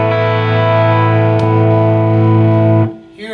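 A sustained, heavily distorted chord rings loud and steady from an IronHorse Heritage 1x12 combo amp with the shine switch engaged, then cuts off near the end, leaving a brief quieter tail.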